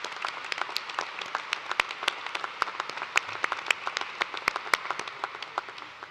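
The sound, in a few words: commencement audience applause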